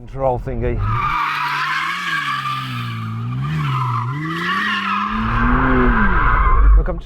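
A McLaren Artura's tires squeal loudly while the car spins in circles, a sustained wavering screech that rises and falls in pitch with the engine roaring underneath, close and continuous.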